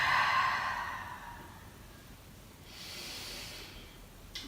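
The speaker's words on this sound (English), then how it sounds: "take a couple deep breaths" Slow, deep breaths during a power yoga workout come through close and soft: a longer exhale with a hissing quality, then a quieter airy breath a few seconds later, with no talking.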